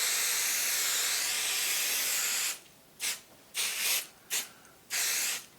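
Quilt basting spray hisses from an aerosol can in one long steady burst, followed by several short, separate puffs, close and fairly loud with no talk.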